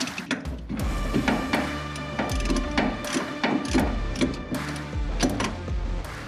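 A nut is tightened on the front shock of a 1966 Mustang with a ratchet, giving sharp repeated clicking strokes in uneven bursts, close up with metallic ringing between the clicks.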